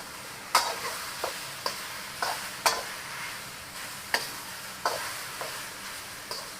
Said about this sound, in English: Broccoli goes back in, all your broccoli. Give it a mix.